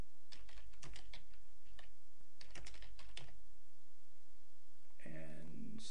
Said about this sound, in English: If it's not in the list here, you can just type in